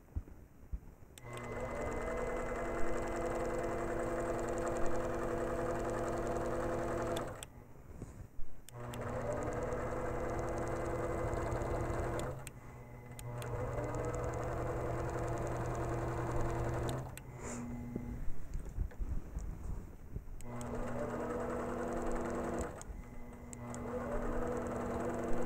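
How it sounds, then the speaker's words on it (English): An APQS longarm quilting machine stitches with its motor held at a constant speed, giving a steady mechanical hum with rhythmic needle chatter. The sound runs close and loud in long stretches, with brief pauses between runs. "This time you'll hear the motor sound at a constant speed because it's moving the needle constantly as we go."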